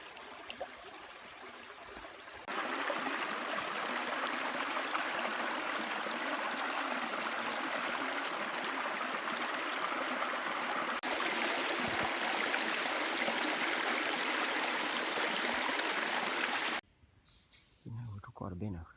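Natural mountain waterfall pouring down from a hillside in Karen State, a steady loud broadband rush that holds for about fourteen seconds before cutting off to quieter ambience.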